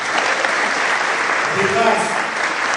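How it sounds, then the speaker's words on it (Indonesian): High school students at a dialogue event with Jakarta's governor applaud steadily, a dense, even crowd clapping throughout, with a voice briefly heard over it partway through. "Tepuk tangan buat beliau."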